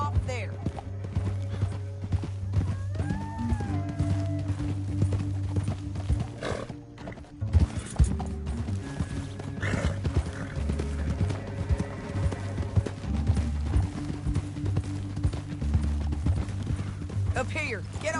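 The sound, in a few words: horses trotting, hooves clip-clopping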